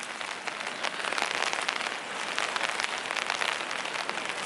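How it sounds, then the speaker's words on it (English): Steady morning rain, a soft continuous patter on surfaces close by, with no voices over it. "I really like the quiet rain like this in the morning when I'm walking or waking up"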